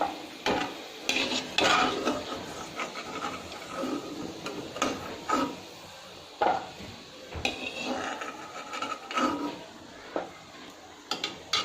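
Golden-fried cashews are scooped from an oily pan onto a plate, with a string of close metallic scrapes and clinks from the utensil against the pan and dish, irregular and uneven, with no talk.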